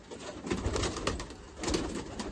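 Jiriya pigeons cooing in a home loft, soft repeated throaty coos rising and falling close by, with a few overlapping calls and no talking.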